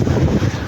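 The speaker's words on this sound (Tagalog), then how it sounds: "Malakas pa yung hangin." Strong wind buffets the microphone at sea off Tubabaw island, Eastern Samar, during a typhoon, a loud, steady low roar with rough waves, no voices.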